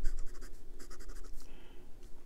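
An ASC Studio Italian resin piston-filler fountain pen with a stiff, slightly bouncy 0.7 mm nib scratches softly across paper in short repeated strokes, close up over a low steady background hum.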